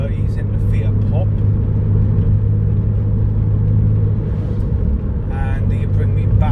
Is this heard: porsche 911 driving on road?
yes